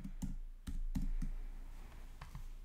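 Quiet typing on a computer keyboard, a handful of soft irregular clicks and taps close by with no talking.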